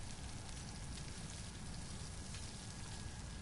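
Steady rainfall in the survival game Stranded Deep, a dense, even hiss of drops pattering on surfaces, constant and close with no voices.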